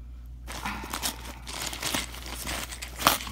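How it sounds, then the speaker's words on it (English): A plastic shipping package from a LEGO parts order being torn open by hand, several quick crinkling and ripping sounds up close, with a sharp final tear near the end. "Oh, I can just tear it."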